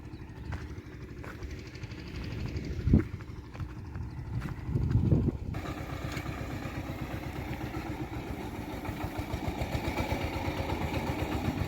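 A mini tractor engine chugs steadily in a farm field during sowing, its rapid low thumping pulse running throughout at close range with no one speaking.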